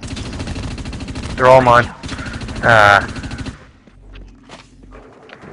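Rapid automatic gunfire in the sci-fi shooter Dust 514, a steady stream of loud close shots with two brief sharper bursts, then the firing cuts out; a player's voice speaks over it.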